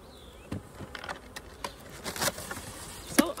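Carpathian honey bees buzz around an open hive, the steady drone close and fairly quiet, with individual bees flying past the ear in brief louder swells.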